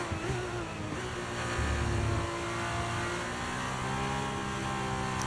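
F1 race car engine in the racing game F1 23 during an 11-lap race, a steady high-revving drone with shifting harmonic pitch, loud and continuous throughout.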